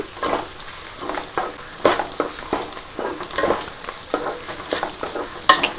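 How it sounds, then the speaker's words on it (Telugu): Capsicum, green chilies and onions fry in oil while being stirred, giving a steady sizzle broken by repeated scraping, clattering strokes of the spoon, close and alone. "ఇవి కొంచెం నూనెలో మగ్గనట్ల ఇట్లా తిప్పుకుంటూనే ఉండండి"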